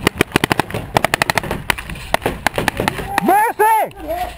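Rapid gunfire in a Marvel vs DC video game: a loud stream of sharp repeated shots, followed by a few sweeping, rising electronic tones near the end.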